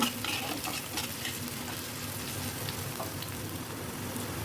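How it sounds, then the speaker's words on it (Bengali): Chopped onion, sliced green chilli and minced garlic fry in oil with a continuous, close, even sizzle and faint stirring, and no one speaks. "পেঁয়াজ, রসুন আর কাঁচামরিচ এখন একটু ভেজে নেব।"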